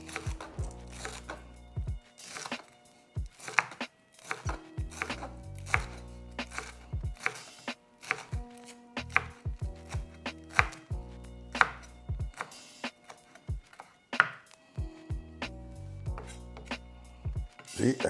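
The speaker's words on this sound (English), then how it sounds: "Cut in small little bite-sized pieces." Knife chopping ingredients for pico de gallo into small bite-sized pieces on a cutting board, with a left-handed cook making steady, close, crisp cuts in quick bursts separated by short pauses.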